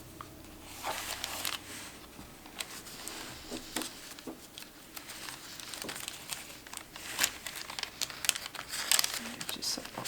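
Writing paper is handled inside a junk journal bag, giving close, quiet crinkling and rustling in irregular bursts, with soft taps and shuffles between them.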